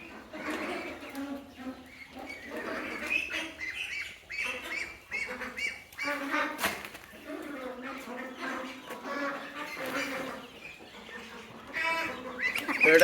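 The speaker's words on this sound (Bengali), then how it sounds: "আপনার পিকনিক স্টার 13 হাঁস নিলেন" A flock of Pekin Star 13 hybrid broiler ducks, about 24 days old, squawk and quack continuously and fairly close, overlapping one another throughout with no pause.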